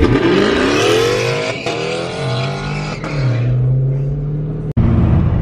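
A loud-exhaust car, likely with a green Dodge Challenger Scat Pack nearby, revs hard and races at night, engine pitch climbing and dropping through shifts, close and roaring throughout with a brief cutoff near the end.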